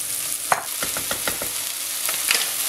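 Vegetables are stirred into hot oil in a pot, a continuous sizzle of frying under a run of quick scraping stirs in an irregular rhythm, close and clear, with no talk.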